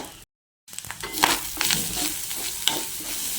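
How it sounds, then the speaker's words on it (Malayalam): Grated coconut sizzles and crackles in hot coconut oil while being stirred, after a brief silent gap at the start; steady frying with occasional sharper pops. "വേറൊരു ചട്ടി അടുപ്പത്ത് വെച്ചതിന് ശേഷം അതിൽ കുറച്ച് വെളിച്ചെണ്ണ ഒഴിച്ച് നാളികേരം വറുക്കുക"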